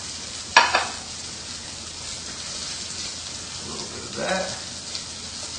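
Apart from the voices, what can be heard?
lamb chops searing in a pan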